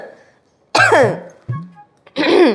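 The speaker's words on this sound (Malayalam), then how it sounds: "എന്തോ ചുമച്ചോണ്ട് സിഗ്നൽ കൊടുത്തേ?" A woman gives a few deliberate throat-clearing coughs as a signal, close and loud, spaced out with short pauses and a brief voiced sound between them.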